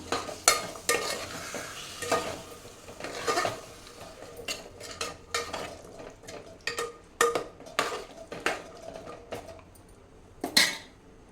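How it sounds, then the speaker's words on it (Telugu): Beaten curd is stirred into a sizzling chickpea biryani gravy in a pot. A spoon scrapes and clinks against the metal in irregular, close knocks over a soft frying hiss, with no talk. "కర్డ్ ఎంత వేసుకుంటే అంత గ్రేవీగా ఉంటుంది ఇది ఇప్పుడు మిక్స్ చేద్దాం"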